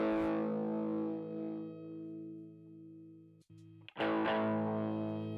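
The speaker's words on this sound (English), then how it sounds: "And then we'll just go hit some heavy sounds, like a drive." A heavily overdriven electric guitar with Seymour Duncan P90 Stack pickups rings out in sustained distorted chords, cutting off briefly before a fresh, loud strum returns.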